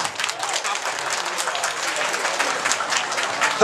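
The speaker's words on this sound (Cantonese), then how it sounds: "多謝，掌聲。" Steady applause from an audience at a lion dance performance event, following a traditional lion dance troupe's show; dense continuous clapping fills the whole stretch at even loudness, with no speech over it.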